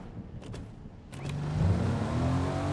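A car driving in Fortnite, its engine building up and holding a steady hum after a few sharp clicks, moderately quiet and close, with no talk over it.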